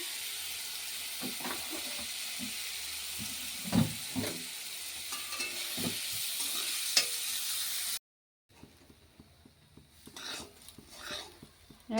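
Foxtail millet rice, washed and cleaned, frying in two spoonfuls of ghee in a pan: a soft continuous sizzle with scattered stirring scrapes and clicks, quiet and close, briefly dropping out before stirring resumes.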